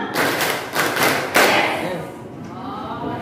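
A group claps out a rhythmic routine in a classroom setting, several loud, evenly spaced collective claps close by, ending with a louder final clap before fading into room noise.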